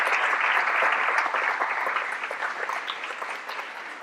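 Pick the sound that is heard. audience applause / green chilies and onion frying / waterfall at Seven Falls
audience applause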